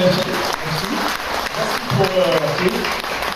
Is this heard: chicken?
no